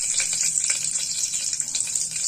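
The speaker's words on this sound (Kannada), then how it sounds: "ಇವಾಗ ಒಗ್ಗರಣೆ ಹಾಕ್ತೇನೆ ರೀ ಸಾಂಬಾರ್ಗೆ." Mustard seeds crackling and spluttering in hot oil as tempering for an Indian black-eyed pea sambar, a steady bright sizzle with scattered pops, close and continuous, no talk.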